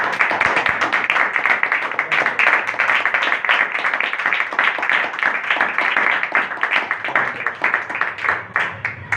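An audience claps in loud, sustained applause, a dense crackle of many hands that is close and continuous throughout with no speech over it.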